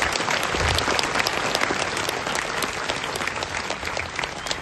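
Sustained loud applause from a large crowd of Shiv devotees gathered at Raigad fort, dense steady clapping throughout with no talk over it.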